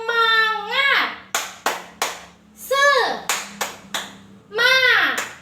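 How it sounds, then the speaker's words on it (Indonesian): A primary-school class performs a rhythmic spirit clap, sharp claps in quick patterned bursts alternating with loud chanted children's voices, close and lively in the classroom. "Tepuk semangat."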